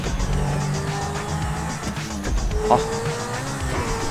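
A car drifts in the GTA 5 video game, its engine droning steadily under long tire squeals that rise and fall, while a voice speaks a single short word.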